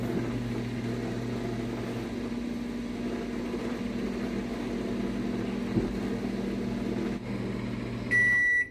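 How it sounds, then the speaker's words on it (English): A microwave oven in rough shape, running on an LG Home 8 home battery system, hums steadily for several seconds, a loud low drone with a faint click partway, ending with a short high beep. "let's try this microwave again"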